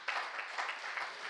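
A Korean church congregation claps during a Sunday afternoon worship service: a short burst of quick, rhythmic applause from many hands, moderately distant and fairly soft.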